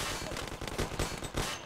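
Rapid automatic gunfire from the video game Mafia: The City of Lost Heaven, a dense, loud burst of repeated shots lasting under two seconds with no pauses.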